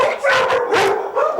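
A dog barks loudly and close, several sharp barks in a broken rhythm during an attack, with yips and howl-like tones between them.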